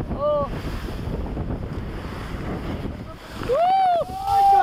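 Heavy surf and wind rumble steadily on Manila Bay during fishing, with voices shouting and exclaiming over the roar of the waves.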